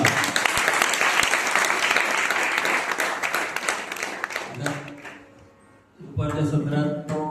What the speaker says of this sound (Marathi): एकदा त्या पालकांसाठी जोरदार टाळ्या वाजवा